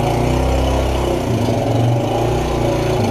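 A 125cc two-stroke motorcycle engine running, a loud, steady buzzing drone close by with slight shifts in pitch and no speech.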